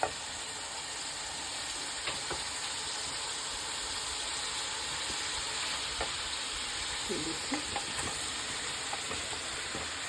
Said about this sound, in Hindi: इसमें हम गोभी डालेंगे।